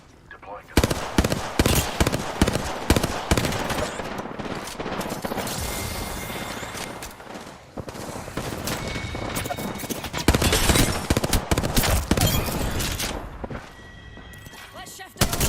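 Sustained automatic gunfire in Apex Legends, with dense rapid bursts and repeated fusillades running nearly the whole time, loud and close, with game effects and speech mixed in.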